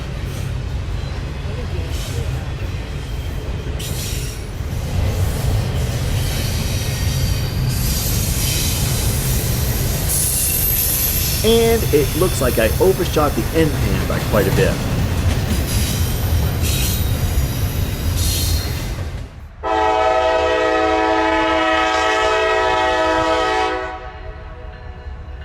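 A slow-moving train rolls past close by, its wheels squealing on the rails for a long stretch, with someone talking over it and a bright, steady tone near the end.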